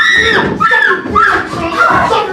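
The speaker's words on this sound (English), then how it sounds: "She heard you singing and she's up and screaming." A girl screams and shrieks in a stage performance of The Crucible, loud, high and wavering cries mixed with agitated shouting from other actors, close and continuous.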